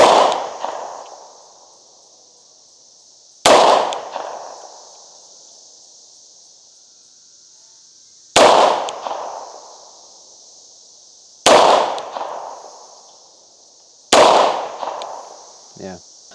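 Five loud, sharp shots from a Tisas B9R double-stack 1911 pistol, each with a ringing tail that fades before the next, spaced a few seconds apart.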